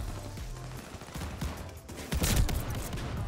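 Enemy shotgun blasts in Call of Duty Vanguard, loud bursts of gunfire tumbling over one another, with the heaviest cluster near the end and no voices.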